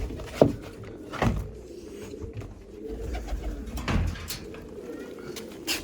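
Large pigeons coo softly at a loft on a rainy day, low throaty calls repeating a few times at moderate distance over light background noise, with faint knocks nearby.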